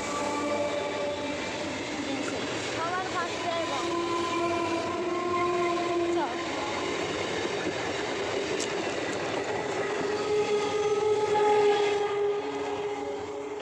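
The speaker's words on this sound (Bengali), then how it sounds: "সামনে ট্রেন আছে না," A train rolls past nearby with a sustained rumble and clatter of wagons and long horn tones, while people talk briefly over it.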